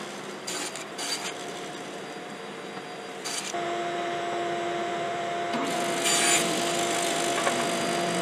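A hand saw cuts wood for the fronts and backs of a birdhouse-style box, a steady rasping stroke running for several seconds, moderately close and alone without talk.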